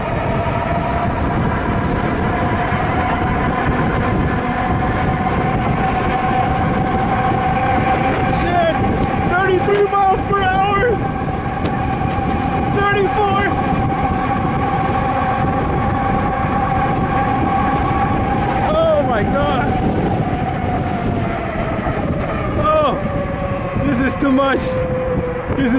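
A Scrambler electric motorcycle at full throttle in race mode, a loud, steady whine that builds and holds under rushing wind noise for the whole stretch, with a rider talking excitedly over it.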